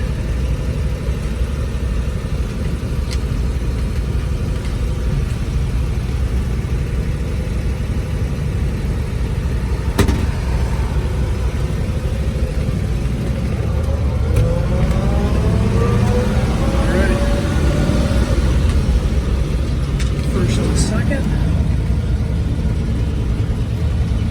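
Restored 1941 Ford pickup truck pulling away in first gear, its engine a steady, close rumble that swells gently as the truck moves off.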